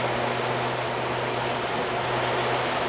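Twin turboprop engines of a Dornier 328 in full reverse thrust after landing, a loud steady roaring drone with a constant propeller hum, heard from the flight deck.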